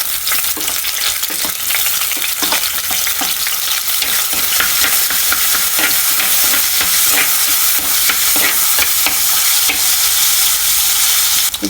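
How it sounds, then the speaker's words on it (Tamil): Garlic sizzles and crackles steadily and loudly in hot oil for a cuttlefish curry, with continuous frying hiss and occasional stirring. "எண்ணெய் சூடாகிக்கொண்டு வந்துட்டு இப்போ உள்ளியை போடுவோம்."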